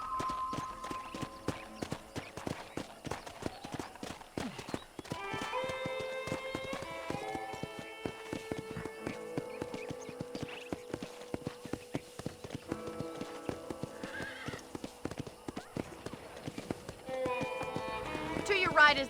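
Horse hooves clip-clop steadily at a walk or trot in a Red Dead Redemption ranch scene, heard under a voice and a bed of music.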